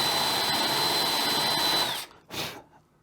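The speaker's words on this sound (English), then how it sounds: "We're going to countersink it" A power drill cuts a countersink hole into a wooden board while a broken mass-produced drawer is repaired: a steady, loud whirring grind for about two seconds, then it winds down and a short second burst follows.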